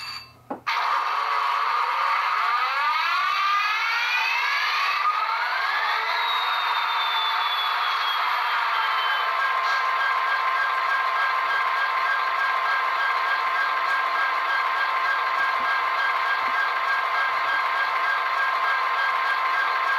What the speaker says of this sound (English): I'm gonna fire up some DCC and sound here by applying track power.